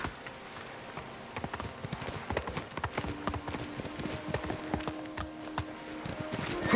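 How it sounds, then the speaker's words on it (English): Rapid clip-clop of horse hooves at a steady galloping rhythm in the video game Ghost of Tsushima, fairly close, with a faint tonal hum running beneath. "You're a good horse, Noble"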